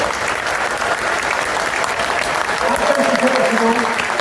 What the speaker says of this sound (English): please give a huge round of applause for our first guest of honour, Haps